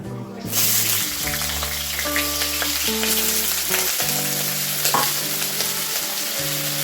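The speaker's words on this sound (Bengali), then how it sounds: "তেল গরম হয়ে গেছে এখন আমি কেটে রাখা আলুগুলো দিয়ে দেবো" Sliced potatoes drop into hot oil and fry with a dense, sustained sizzle that starts abruptly and holds steady, with occasional stirring clinks over it.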